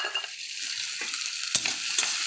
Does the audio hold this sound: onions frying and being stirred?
yes